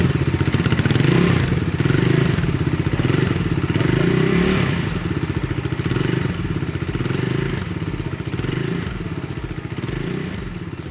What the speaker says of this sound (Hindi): तो आइए जानते हैं डोमिनार 400 का एग्जॉस्ट साउंड कैसा है।